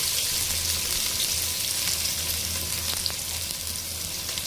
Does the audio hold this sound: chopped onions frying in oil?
yes